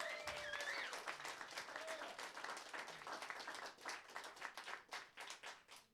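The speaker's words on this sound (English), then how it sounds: "Let's have a huge round of applause for him." Audience at a songwriters showcase in Los Angeles breaks into warm applause that starts full and thins toward scattered claps at the end, with brief voices mixed in at first.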